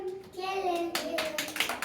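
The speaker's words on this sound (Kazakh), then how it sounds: "Шапалақтаймыз, дұрыс қауса шапалақтаймыз" Children clap their hands in a classroom word game about kinship terms, with a few sharp claps bunched together after a voice speaks at the start.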